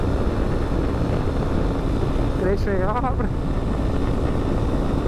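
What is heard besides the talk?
Honda Sahara 300 Adventure motorcycle riding at speed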